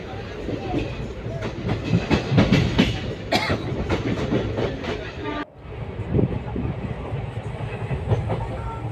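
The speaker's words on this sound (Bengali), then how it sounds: "বাঁকুড়া ট্রেনে যাচ্ছি।" A passenger train bound for Bankura rumbles and clatters along the rails, loud and close, with rhythmic wheel clicks, a sharp squeal, and a sudden drop in noise midway, as if passing a structure.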